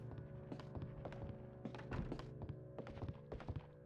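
Metal pipe melee strikes in the Resident Evil Outbreak video game land as a rapid, irregular run of dull thunks and taps over a low steady game hum.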